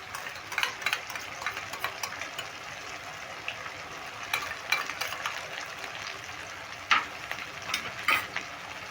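Green chili, garlic and ginger paste goes into a hot pan and sizzles steadily, with scattered clinks and scrapes of a spatula stirring over the frying hiss.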